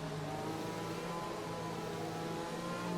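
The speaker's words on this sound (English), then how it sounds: "He's slowing the car down nicely now." F1 race car in a Singapore race replay of an F1 video game, engine note droning steadily as the car slows, a continuous mid-pitched hum with no talk.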